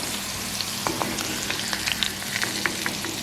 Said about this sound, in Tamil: அப்படியே எல்லாத்தையும் பொரித்து எடுங்க